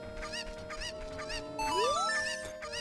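Cuckoo chickens in Zelda: Ocarina of Time, in the Kakariko village pen, clucking and squawking in a rapid string of short calls over looping game music, followed by a rising tone.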